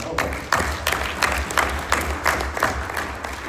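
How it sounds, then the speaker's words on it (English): An audience at the Cloud Connections 2025 conference showcase applauds, a moderate crowd of claps with several sharper bursts through a few seconds. "let's just have a big clap for all the team behind it and Joe Marion."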